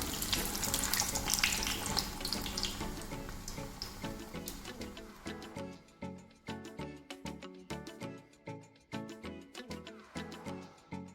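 Sweet puri dough fries in hot oil with a loud, dense sizzle that thins into rhythmic crackling bursts as the pieces are turned, close and continuous.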